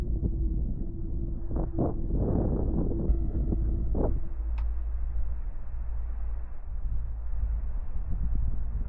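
Wind gusts buffet the microphone on an exposed mountain hike in icy rain, a steady low roar with a few brief thumps and rustles near the start, fairly quiet and without any talking.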